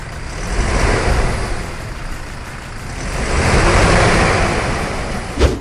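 A Toyota Hilux Revo pickup with a red body kit runs steadily, a broad rumbling drone that swells and fades slightly, heard from nearby outdoors with a brief knock near the end.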